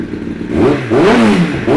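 A 2017 Kawasaki ZX10RR sport motorcycle fitted with an Akrapovic exhaust fires up and revs sharply, with several quick rising and falling engine blips close by and loud.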